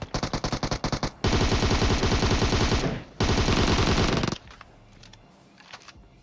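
Automatic gunfire in the battle royale video game PUBG, a rapid burst of close, loud shots followed by a longer sustained volley and a second stretch of fire before fading to quiet.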